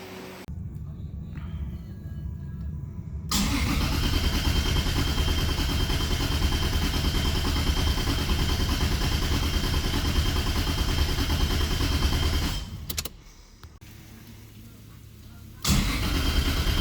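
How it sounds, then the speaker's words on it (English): A turbocharged car engine is started after a turbo manifold install, then catches and runs at a loud, steady roar. It drops to a lower idle and revs up again near the end. "I'm gonna try to start the car anyways."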